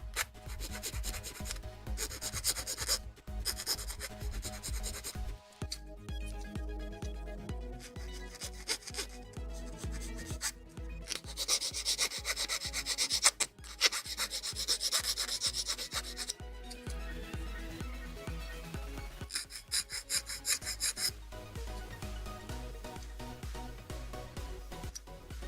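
Sanding nubs off parts of a Bandai Gunpla HG model kit produces repeated short, close scratchy rubbing strokes in bursts with brief pauses, steady and moderately loud over about twenty-five seconds.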